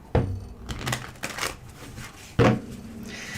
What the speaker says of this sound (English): I'm going to go ahead, shuffle it a few times